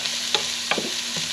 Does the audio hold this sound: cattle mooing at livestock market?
no